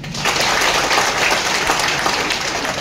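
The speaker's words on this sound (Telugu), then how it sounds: "మీరు క్లాప్స్ ఇస్తే చెప్తా" Audience clapping and applauding throughout a business plan talk, a dense steady burst of many hands that stays loud for the whole stretch, with no voices over it.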